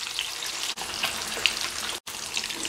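Pork belly frying skin-down in hot oil for crispy pork, a steady bright hiss with small pops, loud and close, broken by two brief dropouts.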